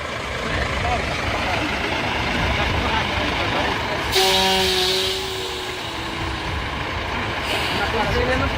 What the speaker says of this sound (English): Is the logging truck strong enough to cross the challenging Mamarana Bridge?